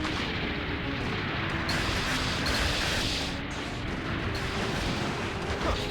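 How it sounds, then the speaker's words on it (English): Missiles fire in the video game Zoids: Battle Legends, a loud sustained barrage of booming blasts over a thick low rumble, several sharper bursts standing out, no voices. "firing missiles out there"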